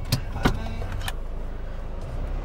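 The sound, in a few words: car slowly driving through a tight spot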